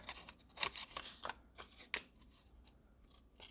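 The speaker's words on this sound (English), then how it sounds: "sometimes it's easier to move the paper and keep your scissors just a little more still" Scissors snip paper while cutting out a drawn paper flower, a few crisp close snips and rustles, quiet and isolated.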